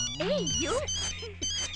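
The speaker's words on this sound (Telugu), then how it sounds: "రాంగ్ టైం లో రింగ్ అవుతుంది." A phone ringtone plays a bright, melodic electronic tune with swooping tones and short repeated phrases, heard fairly close and moderately loud in a comedy scene.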